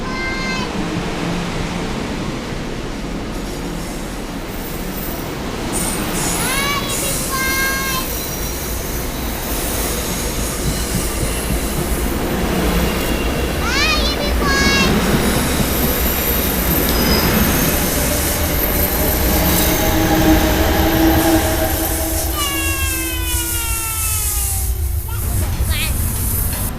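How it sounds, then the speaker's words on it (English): A passenger train runs on its rails with a continuous rumble, rising and falling wheel squeals and screeching brakes toward the end, while people talk faintly nearby throughout. "Choo choo, bye bye train."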